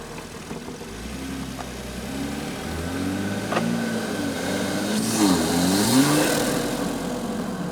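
A Toyota Supra engine fitted with a cold air intake, picked up from inside the engine bay, idles and then revs through several rising and falling sweeps, loud and close with a rough, throaty tone and no talk.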